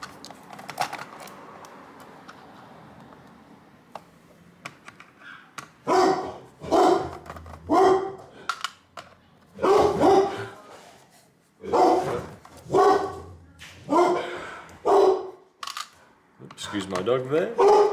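An old Labrador barks repeatedly nearby indoors, a series of loud, evenly spaced woofs after a quieter start, with light tapping in the background during a laptop teardown.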